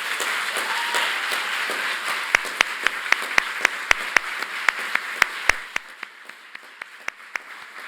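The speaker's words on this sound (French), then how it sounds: "un tonnerre d'applaudissements pour Pierre-Damien Fougou" Audience applause at a mock trial event, an early wash of clapping thinning into a few loud, spaced individual claps close by that slow and fade toward the end.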